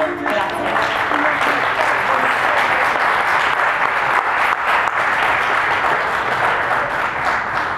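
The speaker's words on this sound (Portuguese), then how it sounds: "mais uma vez peço uma salva de palmas para este belíssimo projeto" An audience claps loudly and continuously at a Knock on Stock event in Lisbon, dense sustained applause from a large crowd that fills the whole stretch without letting up.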